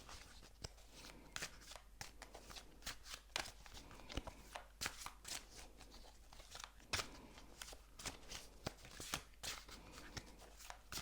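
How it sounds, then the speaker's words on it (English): Rapid riffling of tarot cards being shuffled, a series of crisp, close bursts of papery flutter and taps repeating across the whole stretch. "I'm going to shuffle and see what the cards have to say"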